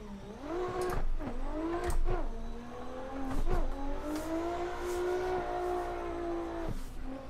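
A Nissan 370Z drift car climbs Pikes Peak in the racing game Assetto Corsa, its engine droning loudly and steadily, with the pitch repeatedly climbing and then dropping sharply at each gear change. No one speaks.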